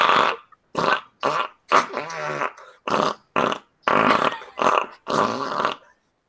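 A voice imitates a string of farts: about ten short, buzzy, sputtering bursts in an irregular rhythm, close and fairly loud, separated by brief pauses.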